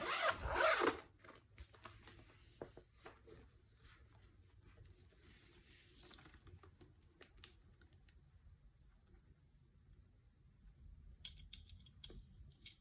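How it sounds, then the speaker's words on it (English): A zipper on a photocard binder is drawn open from the top, with a loud rasp at the start followed by softer clicks and rustling handling sounds, then another brief zip near the end. "it's literally like a zipper, so you actually have to open it from the top"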